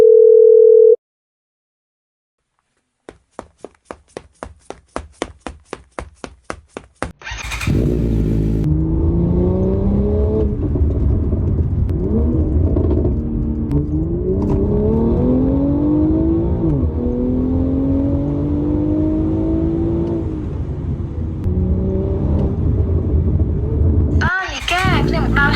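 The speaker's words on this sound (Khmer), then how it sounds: "ដល់ហើយឯងឆាប់ឡើងម៉ូតូមកនឹងបានទៅជាមួយគ្នា" A motorcycle engine bursts into life after a short beep and a run of rapid clicks, then runs loud and close with rising and falling revs for most of the stretch.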